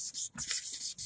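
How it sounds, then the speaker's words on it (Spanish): A car headlight is hand-sanded with 1500-grit sandpaper, producing quick, close rasping strokes in a steady back-and-forth rhythm with brief gaps between passes. "Estamos ya dándole con lija que 1500, vos. Lija 1500. Limpiando los faros,"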